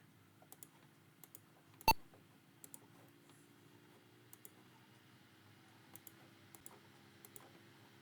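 A single sharp computer mouse click, close and fairly loud against a quiet room hum, with a few fainter ticks scattered around it while setting up a Windows 98 install in the 86Box emulator.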